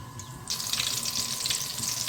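Battered mirchi bajji chillies drop into hot oil, bursting into a loud, steady hiss and crackle of frying about halfway through after a quieter start, close and without talk.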